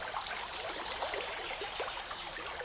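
The River Tame in Tamworth streams and trickles steadily over its bed, a continuous bright wash of moving water close by, with no voices present.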